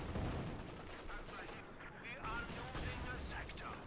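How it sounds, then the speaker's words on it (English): Bazooka fire in the World War II strategy game Company of Heroes 2, a dense stretch of battlefield gunfire and blasts rumbling continuously at close range over a busy backdrop of combat noise and faint voices. "Bazooka fire managed to spectacularly hit a tree, but not the tank."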